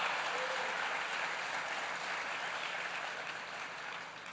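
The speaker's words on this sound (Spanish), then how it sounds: "aplauda con ganas." A church congregation applauds, a dense, fairly distant wash of clapping that slowly fades over a few seconds.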